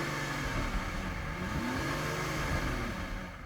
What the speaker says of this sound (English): let's just have a listen to these cars' V12 engines